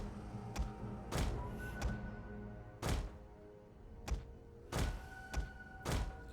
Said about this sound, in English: Our archers are starting to fire.